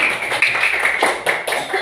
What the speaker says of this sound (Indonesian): Kasih tepuk tangan dulu, kasih semangat dulu teman.